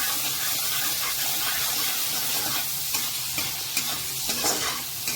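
Tomato and masala frying in oil for a pointed gourd and potato curry with coconut milk, a dense close sizzle with scraping stirs and small spatters, steady and loud with no speech.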